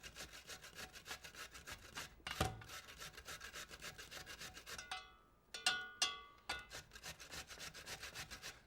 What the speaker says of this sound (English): Then we're going to take some potato and just grate that.